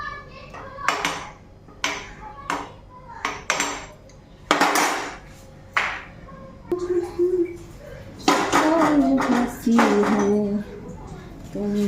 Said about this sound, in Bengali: কড়াইটার মধ্যে এখন পনিরটা বসাই দেবো।